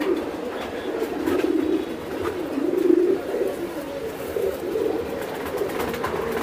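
Racing pigeons coo in low, rolling murmurs that swell and fade in a continuous, moderately loud stream, with almost no voice over them.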